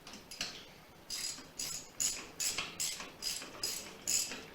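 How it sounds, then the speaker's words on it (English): A half-inch drive ratchet tightens the rear axle on a 2014 Street Glide motorcycle, giving quiet, fairly close clicking in about eight regular bursts with short pauses between strokes. "let me get my handy dandy 1/2 inch drive ratchet on our"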